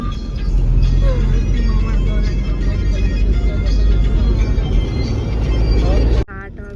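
Road traffic on the way to Shirdi, heard from inside a moving vehicle: a loud, steady engine and road rumble that runs throughout, then cuts off abruptly near the end.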